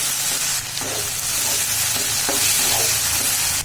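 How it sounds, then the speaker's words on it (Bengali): Potatoes, carrots and chili frying with salt and turmeric in a pan, a loud continuous sizzle with scattered stirring knocks, close up and uninterrupted by speech. "এখানে আলু দিয়ে গাজর দিয়ে আর ঝাল দিয়ে ভাজি করে নিচ্ছি"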